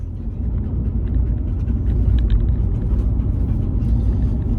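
Steady low rumble of a car driving, heard from inside the cabin with dogs aboard, a continuous engine and road drone that stays loud and even throughout with no talking.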